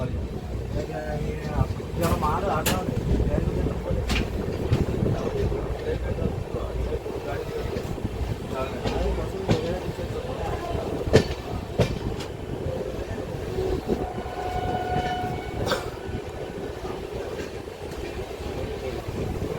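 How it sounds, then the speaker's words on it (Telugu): Satavahana Super Fast Express moving slowly on the Kazipet outer line, a steady rumble with light rail clatter and occasional sharp knocks, under intermittent nearby talk. "దానివల్ల ట్రైన్ మెల్లగా వెళ్తుంది"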